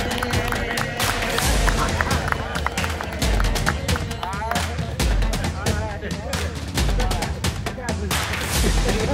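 A group of people clapping for team captains at an outdoor gathering, with dense sustained applause, some cheering and a speaking voice over it, loud and continuous throughout.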